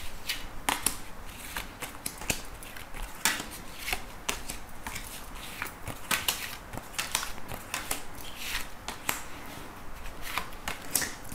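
Tarot cards shuffled briskly and continuously, a dense papery riffling and slapping close by that carries on steadily without pauses, with no voice over it.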